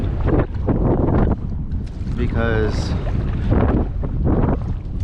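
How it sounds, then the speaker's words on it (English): Heavy wind buffets the microphone in loud gusts on the water while snook fishing, rumbling throughout, with a brief spoken word partway through. "it's not gonna be worth my time trying to paddle against the wind with it blowing so hard"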